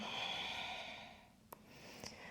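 A long, soft exhale during a yoga breathing exercise, followed by a couple of faint short breath sounds, close and quiet.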